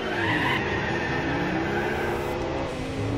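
Peugeot 205 race car in the Gran Turismo 4 video game, a loud continuous engine roar mixed with tire squeal and skidding noise, sustained and steady without pause.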